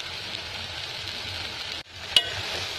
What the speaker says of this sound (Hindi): पूरा क्रिस्पी होने तक इसको अच्छे से फ्राई करना है